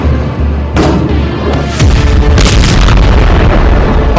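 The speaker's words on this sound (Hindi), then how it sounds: "घुप अंधेरे में दक्षिणी लेबनान में सीरियल धमाकों का ये पार्ट 2 है।" Serial explosions at night in southern Lebanon: a couple of sharp blasts give way to a loud, continuous, rumbling roar of distant bombardment that fills the rest of the clip.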